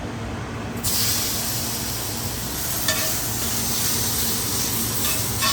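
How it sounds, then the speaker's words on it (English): A New York strip steak, cut from a T-bone, sizzling in a hot pan. The sizzle comes up abruptly and holds as a steady, close, loud hiss, with no talk over it. "All right, in with the steak."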